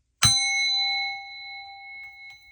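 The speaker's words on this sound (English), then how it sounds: "So what I'm going to do is ring the bell." A single bell is struck once at a spiritual healing session, giving a clear bright ding that rings on with a long, slowly fading sustain in a quiet room.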